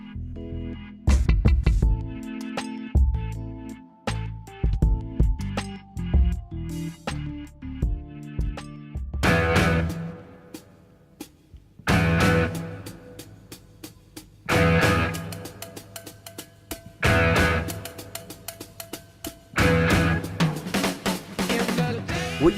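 Intro to a rock song with its drummer: loud band hits and sustained chords open, then heavy drum and guitar punches return in repeating bursts, full and close.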